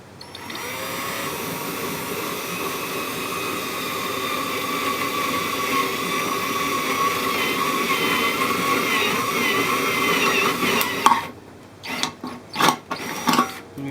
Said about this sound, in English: And then we're going to drill this out.